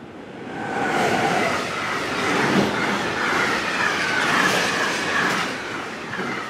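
A train rumbles past a railway crossing close by with a loud, steady roar and rhythmic wheel clatter, broad noise sustained throughout.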